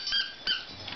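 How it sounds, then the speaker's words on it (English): A squeaky dog toy squeaks twice in quick succession, close and fairly loud, with no talk. "Isn't she scared of the squeaker?"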